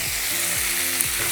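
Tomatoes with curry leaves sizzle and fry steadily in a hot pan, a continuous close crackle with faint low stirring scrapes, no talking.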